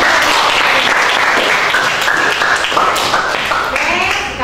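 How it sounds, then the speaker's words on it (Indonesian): Loud, close applause from a classroom of students clapping for a student, dense and continuous throughout before tapering slightly at the end. "Tepuk tangan untuk ketiga."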